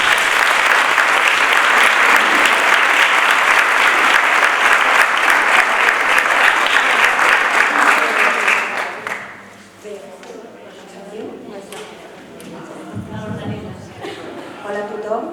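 An audience at a rural-school conference claps in loud, dense sustained applause for about nine seconds, then it fades and a speaker begins addressing the room.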